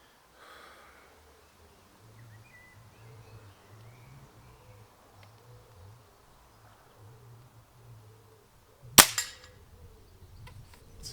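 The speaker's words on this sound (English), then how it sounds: "the recoil noise, firing cycle noise is coming out on camera" A toy gun fires once with a sharp, loud snapping crack that carries its recoil and firing-cycle mechanism noise, followed by a few faint clicks over a quiet, low background hum. No voices.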